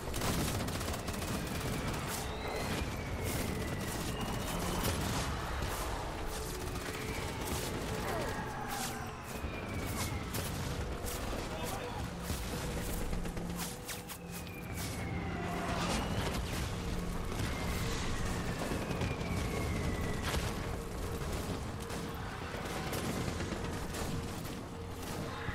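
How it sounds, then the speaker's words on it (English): Dense wartime gunfire and mortar blasts from the video game Death Stranding, with World War One era soldiers firing near a pillbox; a continuous loud barrage of overlapping shots and booms under a talking voice. "Get hit by a mortar."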